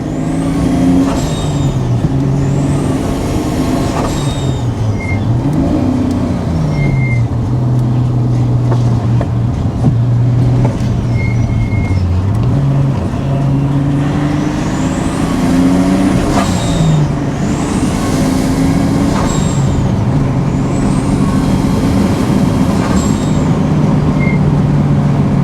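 A turbocharged BMW E30 325i with an M20B25 inline-six runs loud and close, its engine note rising and falling through repeated revs over a steady rough rumble, with no talking throughout.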